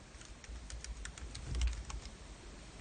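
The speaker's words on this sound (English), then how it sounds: "otherwise you can hear me typing" Quick typing on a computer keyboard during a radio show, soft clicks in short irregular bursts, fairly close but quiet, with a low thump partway through and no talking.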